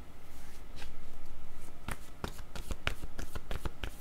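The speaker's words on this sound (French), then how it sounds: "Allons-y avec la carte du" Playing cards shuffled by hand, a soft riffling hiss followed by a quick run of crisp flicks and taps close up, with no voices.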